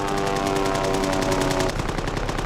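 Rapid, continuous machine-gun fire from a WWII fighter plane rattles loudly in a dense, even stream of shots, filling the whole span without pause.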